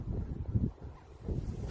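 Low, gusty rumble of wind buffeting a microphone, swelling and easing over a couple of seconds with no voices.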